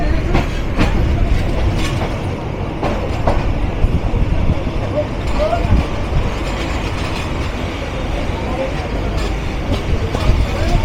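A train hauled by WDM 3D diesel locomotive number 6541 rumbles steadily on a Bangladeshi line, a loud, continuous roar of wheels and carriages with faint clatter throughout.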